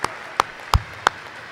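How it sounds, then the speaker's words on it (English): Four sharp, separate claps spaced about a third of a second apart at a high school awards evening, sparse and fairly close, with quiet between them. "So a huge round of applause to them."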